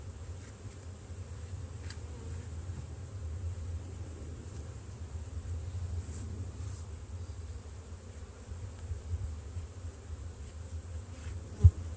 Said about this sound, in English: Hopefully all these flying bees will